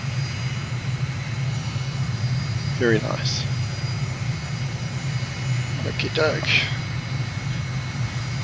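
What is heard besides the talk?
airplane engine in flight, from video game Microsoft Flight Simulator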